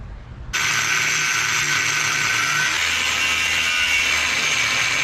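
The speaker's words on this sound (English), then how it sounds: "I've got to grind all that welding out there." An angle grinder grinds out old welds on a steel swivel fitting of a camper trailer build, starting abruptly after a brief quiet moment and then holding a loud, steady, high-pitched whine close by throughout.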